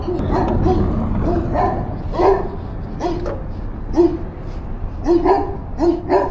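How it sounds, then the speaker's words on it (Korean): A very large dog barks repeatedly behind the gate of a big house in Porto, a rhythmic run of deep, close barks over steady outdoor background noise, with faint voices. "엄청나게 큰 강아지가 있어."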